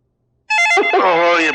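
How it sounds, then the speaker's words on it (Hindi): A telephone rings with a short repeated electronic trill, loud and close, then a voice comes in over the end of the ring. "ओह, ये बेवक्त किसका फोन आ गया?"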